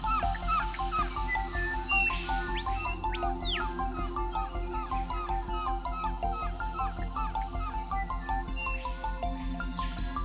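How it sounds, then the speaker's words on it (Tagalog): A flock of wild birds calls across open sky, with many short, overlapping chirps and honking notes repeating steadily over a constant outdoor background. "malayang lumilipad ang maraming klase ng ibon"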